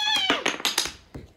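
A Barbie vet set toy kitty gives off a few electronic meows in quick succession, close and fairly loud, followed by short clicks or bumps.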